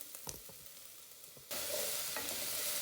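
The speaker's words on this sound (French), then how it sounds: "l'oignon jusqu'à qu'elle devienne translucide. Bien cuite, donc je vais attendre." Onion fries in a pan, a quiet sizzle with light stirring taps that abruptly swells into a loud, dense hiss halfway through and holds steady, close up with no talking.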